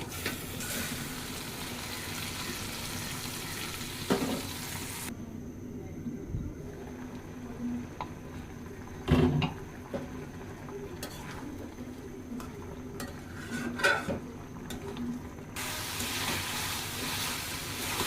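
Onion and chicken sizzle in a pan with occasional scraping and clanks of a utensil against metal; the sizzle drops quieter in the middle, then returns.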